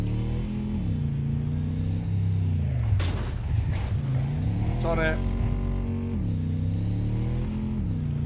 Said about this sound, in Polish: Samochód, który dostaliśmy od Claire.